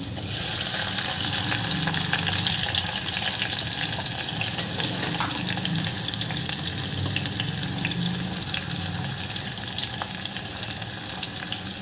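Onion browning in a pan with garlic for a bitter gourd curry gives a loud, continuous close sizzle that hisses steadily throughout with faint occasional stirring, and no voices.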